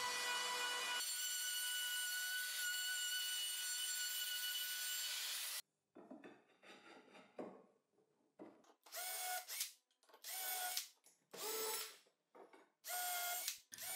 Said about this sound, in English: I cut the groove in several runs with a handheld router